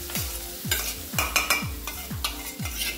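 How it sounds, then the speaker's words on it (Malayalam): Cooked rice stirred into frying onions in a pan, with a steady sizzle under repeated rhythmic scraping strokes of a spoon, about six close, even sweeps. "ഇതിലേക്ക് ചോറിട്ട് കൊടുക്കല്ലേ, വേവിച്ച് വെച്ച ചോറ് ഇട്ട് കൊടുക്കാം."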